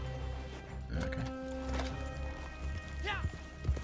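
Horse hooves clip-clop in the Western video game Red Dead Online, a few soft plodding steps mixed with game sounds and a brief whinny-like call, fairly quiet.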